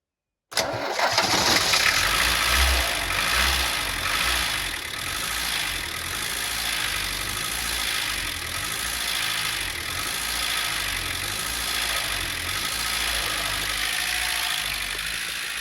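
A classic car engine cranks and fires into life close by, then settles into a steady, loud idle that runs on evenly with a slight rough pulse, no voices over it.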